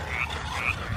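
Toads croak outdoors in a steady, buzzing chorus with a couple of brighter trills rising above it, moderately faint and continuous with no talking.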